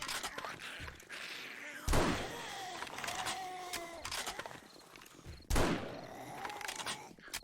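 A hunting rifle in 7 Days to Die fires during a zombie horde night. Two loud, sharp shots ring out several seconds apart, with thuds, clatter and scattered gunfire rattling in between.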